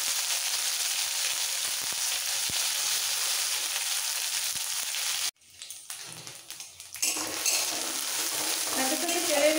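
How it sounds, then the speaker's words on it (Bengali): Kharkol leaf paste fries in oil with black cumin and is stirred, making a loud continuous sizzle. It drops away briefly partway through, then returns with uneven scraping and stirring. "সাথে সাথে তেলের মধ্যে একটু মিক্স করে নেব"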